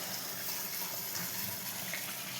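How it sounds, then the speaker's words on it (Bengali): Water rushes steadily out while an Aero water filter is backwashed in Karimganj town, a constant close hiss and gush of flow with no breaks. "এটাকে ব্যাক ওয়াশ করছি।"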